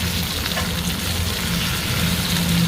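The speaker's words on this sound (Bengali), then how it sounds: "আদা রসুন ভাজা হয়ে গেছে, পেঁয়াজের সাথে সাথে টমেটো দিয়ে দিলাম" Tomatoes added to a pan of frying onion, ginger and garlic for a Bengali tangra fish curry, sizzling loudly and steadily throughout with a dense, continuous crackle and no talking.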